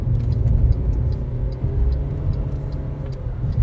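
An MG Astor 1.5 CVT accelerating to overtake, heard from inside as a steady low engine drone and road rumble that swells slightly, with faint ticking on top and no talking.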